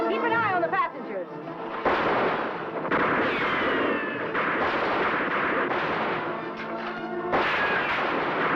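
Gunfire crackles during a train holdup in a black-and-white TV western, several sharp shots and reports mixed with shouting voices, loud and close throughout.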